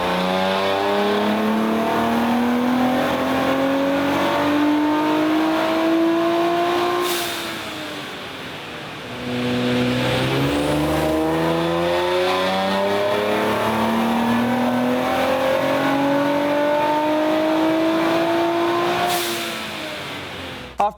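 A Nissan Z's twin-turbo VR30DETT engine with a Nismo intake roars through two long dyno pulls. Each rise in pitch ends in a sharp lift-off and a brief dip between runs.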